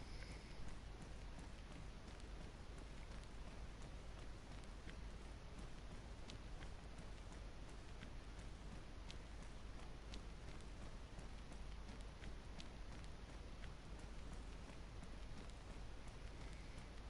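Steady rain falls in the survival game DayZ, a constant full-range hiss with light scattered patters, quiet and unbroken for the whole stretch with no talk over it.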